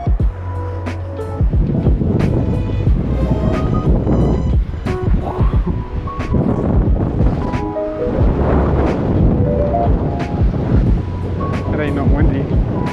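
Strong wind gusting hard across the microphone while skating on big wheels, a loud continuous rumbling buffet with sharp clicks and knocks mixed in, and a voice speaking briefly underneath.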